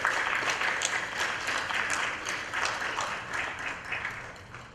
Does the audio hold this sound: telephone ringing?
no